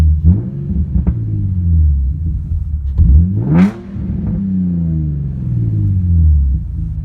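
Infiniti G35 coupe engine revving through a cheap dual exhaust with the mufflers removed: a deep, loud rumble from idle swells into one sharp rising rev around the middle, then drops back to a steady throbbing idle.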